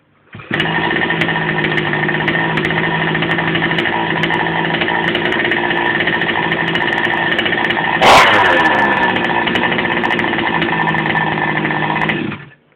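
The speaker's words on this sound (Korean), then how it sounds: "시동을 한번 끌어보겠습니다" A 29cc GoPed scooter engine with an easy pull starter fires up and idles at a buzzy, high-pitched steady drone, close and loud, with a brief rev surge partway through before it cuts off.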